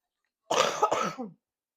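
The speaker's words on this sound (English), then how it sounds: "Trying to cough away from the mic." A single short, harsh cough close up, breaking into two or three quick bursts, with silence before and after.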